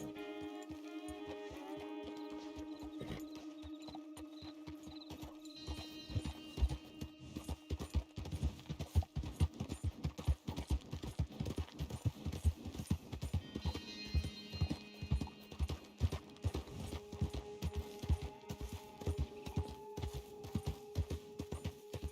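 Steady clip-clopping of horse hooves in Red Dead builds into a quick, rhythmic trot, with game-like ambient tones underneath and no talking.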